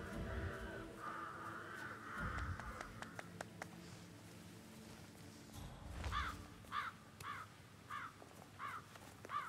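Crows caw in a repeated series of harsh calls from the Hitman 3 video game, about five evenly spaced caws in the second half over a low background of game ambience and thuds.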